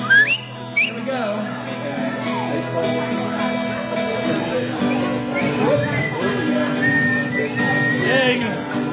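An audience whistling along to a live cover of a song at Twisted Irons in Newark, Delaware, with wavering whistles rising over the band while people talk and call out.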